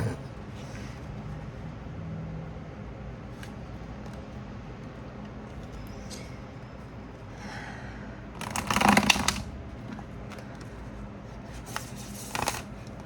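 Quiet room tone broken by a few soft card riffles, then one louder, crisp burst of shuffling, followed by another brief riffle near the end.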